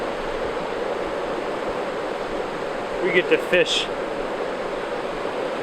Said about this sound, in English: Check out this beautiful waterfall behind me.